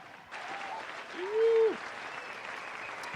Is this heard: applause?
yes